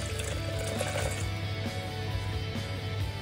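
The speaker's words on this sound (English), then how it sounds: "we want to add in 1 cup of water" A cup of water poured into corn cake batter in a home kitchen, a steady liquid splash and trickle running throughout at moderate level, with a low background hum.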